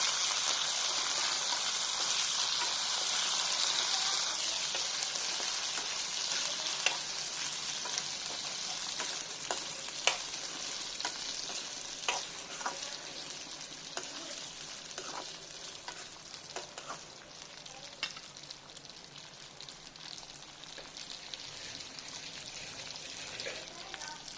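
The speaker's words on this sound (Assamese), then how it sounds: "কাটি থোৱা কচুখিনি ইয়াত দি দিম। দি এইখিনি মই লৰাই দিম।" Cut taro pieces stirred in a hot cooking pan, a sizzling hiss with repeated spatula scrapes and knocks, fading gradually over time while a voice talks quietly alongside.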